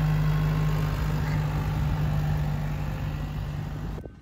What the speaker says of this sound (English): they have a tractor out here picking up seaweed